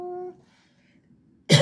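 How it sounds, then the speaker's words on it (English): A single harsh cough bursts in loud and close near the end, after a short stretch of speech and a quiet pause. "excuse me with all the coughing"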